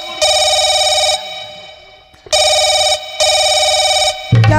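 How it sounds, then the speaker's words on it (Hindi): Phone ringing in a home, a harmonic electronic ringtone sounding in three long bursts with a short pause between, loud and close, with a brief pause midway and a low hum beneath. "फोन आ रहा है।"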